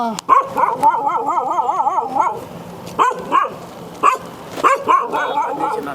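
A dog barks repeatedly up close in a yappy, wavering series of barks and yelps, with short pauses between bursts, a street dog in Hyderabad.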